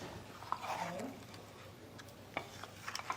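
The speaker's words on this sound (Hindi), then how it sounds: "पानी डाल के हम एक बार अच्छे से चला लेंगे।" A spoon stirs water into spices, magaz seeds and desi ghee for chicken changezi, quiet close scraping and sloshing with a few light clinks against the pot.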